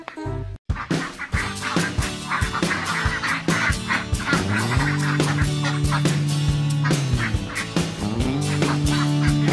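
A flock of Pekin ducks, some two or three months old, in their new pen, honking and quacking loudly and continuously, many birds calling over each other close by with no speech.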